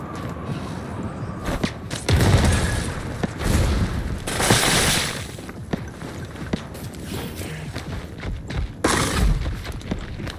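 Frost grenade blasts and rapid gunfire in the survival game Once Human inside a cave, dense repeated shots and booming bursts that keep up without a break, loud and close.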